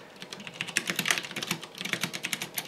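Brisk, continuous clicking of keys being typed on a Pok3r 60 percent mechanical keyboard, close and clear with an uneven rapid rhythm and no talking.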